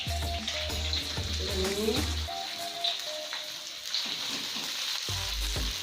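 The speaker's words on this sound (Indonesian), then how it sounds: "Setelah ini bumbu ini kita tumis." Spice paste for ulukutek leunca, a traditional Sundanese dish with fried oncom, sautéing in a pan: steady close sizzling and frying with stirring scrapes, a brief word spoken over it.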